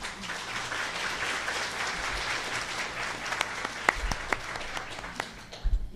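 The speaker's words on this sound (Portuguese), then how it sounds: "Uma salva de palmas." Steady applause from a lecture audience fills the room, a dense even clatter of many hands that holds for several seconds, with a few sharper claps standing out near the end.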